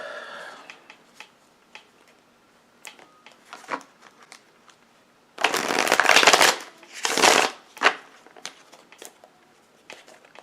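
Tarot cards are shuffled up close: light clicks and taps at first, then two loud riffling bursts and a few softer flicks as the deck settles, with no speech.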